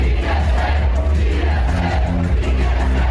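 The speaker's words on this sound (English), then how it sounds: "the crowd chanting DSA" A crowd at a Democratic Socialists of America event chants DSA, a loud, rhythmic massed shout that repeats in steady beats over a low, steady music bed.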